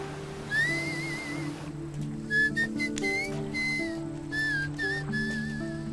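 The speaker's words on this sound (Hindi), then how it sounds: "आप बिना मुंह हिलाए सीटी कैसे बजाते हो?" Whistling done without any visible movement of the mouth, a wavering melodic tune of short rising and falling phrases over a steady, low sustained music bed, fairly close and clear.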